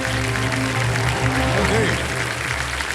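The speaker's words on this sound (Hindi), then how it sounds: "तालियां बजती रहें सबके लिए" Studio audience clapping on the quiz show Kaun Banega Crorepati, a dense continuous patter of applause under a steady musical tone and background sound.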